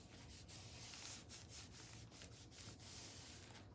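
Paper is burnished down with a covering sheet in between while assembling a paper doll flip book, giving a soft, close rubbing sound in rhythmic back-and-forth strokes, faint and continuous.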